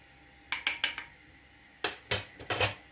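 A spoon knocks against a pot as Moroccan harira soup with flour is stirred, two quick clusters of sharp clinks and scrapes separated by a short pause.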